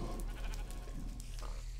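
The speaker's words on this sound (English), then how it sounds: "The sheep." Sheep bleating in the Minecraft video game, a short mid-level call over a steady low background hum, with no talking.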